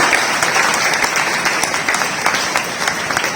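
Applause from an audience at a Janmashtami celebration in Derawal Nagar, a steady, loud wash of clapping from many hands that carries evenly throughout, with no voices over it.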